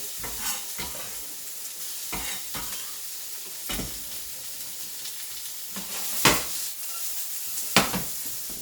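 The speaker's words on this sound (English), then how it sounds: "So I'm going to go ahead and add these onions in." Onions sizzle and fry in a pan alongside garlic honey shrimp, a steady crackle with occasional stirring scrapes and a couple of sharper clacks from the utensil, heard close with no talking.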